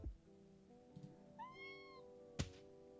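A loud cartoonish cat meows once in a video game during playtesting, a rising, bending call that stands clear over low background sound, with a soft thump at the end.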